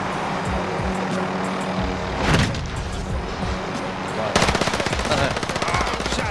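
Rapid automatic gunfire from a video game rattles in bursts over a low engine-like drone, loud and close, with a denser stretch of shots near the end.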